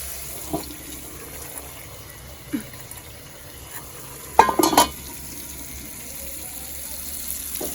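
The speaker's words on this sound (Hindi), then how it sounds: "तो यहाँ पे भी मसाला वगैरह हो रहा है फ्राई" Masala spices fry softly in a pan on a home stove, a faint low sizzle broken by a few short clinks and scrapes of stirring.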